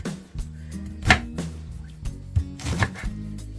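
Knife chopping through pineapple core pieces on a cutting board, several firm, separate thuds at an uneven pace, close and clear.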